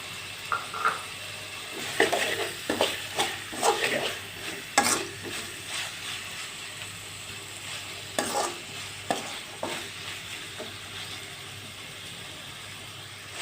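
Tomatoes cook in a pan with salt for coriander tomato rice while a ladle stirs and presses them, giving scattered scraping and clinking strokes over a steady low sizzle.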